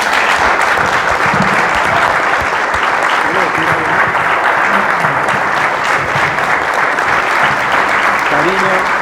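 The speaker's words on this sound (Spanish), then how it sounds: "un gran aplauso." An audience at a tribute event for an Argentine architect breaks into loud, sustained applause that fills the hall, with scattered voices and cheers mixed in beneath the clapping.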